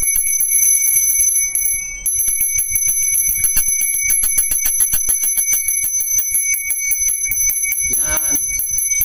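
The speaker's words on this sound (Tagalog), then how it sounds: "O yung magpatunog tayo ng bell katulad nito." A bright brass hand bell rings rapidly and continuously with sustained high overtones, loud and close, with a brief voice near the end.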